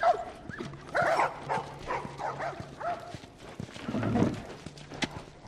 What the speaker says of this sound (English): You got a healthy puppy.